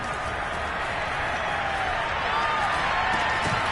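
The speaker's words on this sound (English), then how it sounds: "You can already start to hear this crowd." A football stadium crowd roars as a broad, continuous wash of noise during a Seahawks at Texans game, building slightly toward the end.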